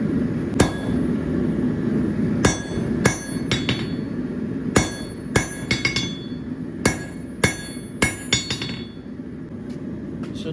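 A blacksmith forges box jaw tongs from hot steel with hand and power hammers: a dozen sharp, ringing blows land at an uneven pace, close and loud, over a steady low background hum.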